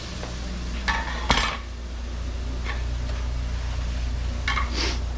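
Garlic fries in a pan with a soft, steady sizzle, punctuated by a few light clinks of utensils against the pan, close and fairly quiet.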